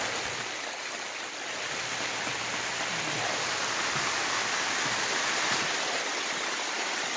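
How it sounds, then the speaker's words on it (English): Steady, dense hiss of heavy rain pouring down continuously, loud and close, with no voices. "It's raining pretty hard as you can hear."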